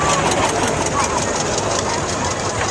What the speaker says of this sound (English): in a 1948 John Deere B